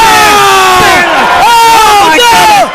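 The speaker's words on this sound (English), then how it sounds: "Listen to this crowd just go nuts." A live wrestling-match crowd erupts in loud, wild cheering and whooping, a dense wall of many voices, close and sustained throughout.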